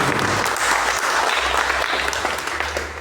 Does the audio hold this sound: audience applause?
yes